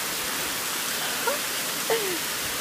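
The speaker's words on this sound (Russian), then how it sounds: "ливень, мощный поток ливня над Гурзуфом." A heavy downpour over Gurzuf, Crimea, makes a dense, steady hiss that fills the scene, broken by two brief tonal chirps. No one speaks.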